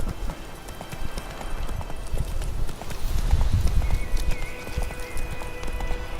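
Horse hooves clip-clop steadily at a walking rhythm in the video game The Witcher 3, fairly close, with a brief whinny and a faint voice or two in the background.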